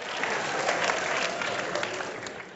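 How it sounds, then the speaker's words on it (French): Audience at a comedy show clapping in a steady, dense wave of applause, loud and sustained throughout with no pauses, crowd noise mixed into the clapping. "Applaudissez pour vous-même."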